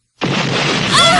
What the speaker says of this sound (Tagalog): Sumabog!